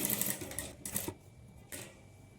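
A sewing machine stitching a boat neck blouse, running in quick, close bursts that stop and start, with a quieter pause before a last short run.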